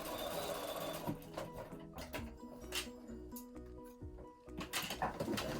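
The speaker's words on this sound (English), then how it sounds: "you're going to sew right off your binding and over the edge of that one" A sewing machine stitches over the binding edge of a crazy patchwork lampshade, giving a steady, quiet mechanical chatter with small clicks and pauses as the fabric is guided along the curve.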